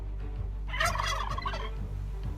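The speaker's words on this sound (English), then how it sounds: "Turkeys are mean little bastards." A turkey gobbles in one rapid, rattling burst at mid-range distance, set over a steady low background hum.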